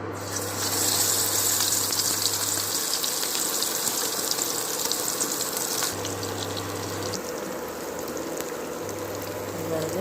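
Fish drops into very hot oil in a pan and fries with a loud, steady broadband sizzle that fills the whole stretch, with a faint low hum underneath.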